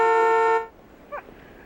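A car horn gives one sustained, loud honk lasting about half a second, then cuts off, leaving faint background noise and a brief short chirp.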